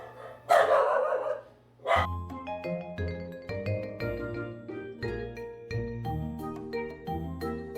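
A pet dog named Rowan barks twice in a home studio, two sharp, close barks in quick succession near the start, followed by steady background music.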